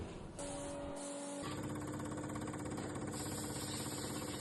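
A fuel injector mounted on a test bench runs a check, giving a faint, steady mechanical hum with fine rapid ticking. The tone shifts slightly about a second in.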